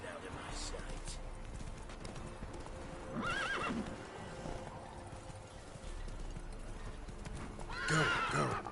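Horse galloping in the game The Witcher 3, steady rhythmic hoof clip-clop under a rider's urging voice, with a loud neigh near the end.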